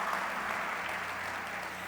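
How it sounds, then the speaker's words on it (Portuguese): Applause from a church congregation during a sermon, a steady dense patter of clapping heard throughout at moderate level with no voices over it. "Dê uma salva de palmas."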